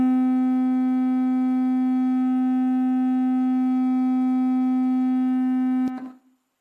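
A steady 256 Hz tone rich in evenly spaced overtones holds unwavering for about six seconds, then ends with a soft click and fades quickly, with no voices over it.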